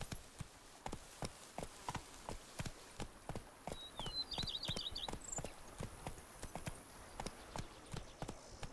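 Roach, Geralt's horse in The Witcher 3: Wild Hunt's Blood and Wine expansion, trots along with steady, evenly spaced hoof clops, joined briefly by a faint high bird call partway through.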